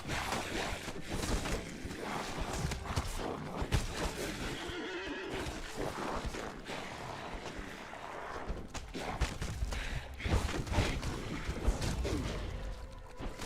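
A mounted horse in an online fantasy game trots with steady clip-clopping hooves and repeated neighs and whinnies, loud and close, filling the whole stretch without talk.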